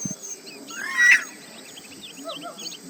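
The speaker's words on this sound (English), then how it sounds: "I can hear the Dodo Bird calling." A dodo bird calls in the Zoo Tycoon 2 video game, a strong warbling call in the middle over a chorus of fainter chirps from other animals in the park.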